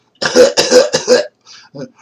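A person imitates coughing: three harsh, throaty bursts in quick succession, close and loud, followed by a softer short grunt.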